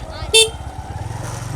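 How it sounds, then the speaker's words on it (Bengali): A single short toot from a motorcycle horn sounds over the rapid putter of its running engine on a road near the Vatibandar kash flower area in Sonargaon, Narayanganj. "একটু হর্ন কি দেওয়া লাগবে"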